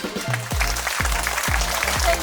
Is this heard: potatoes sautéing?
no